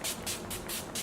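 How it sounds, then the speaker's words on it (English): Urban Decay All Nighter setting spray mists out of its bottle in several quick, close hissing bursts, about five short pumps in rapid succession. "now I'm just gonna set my spray with the All Nighter"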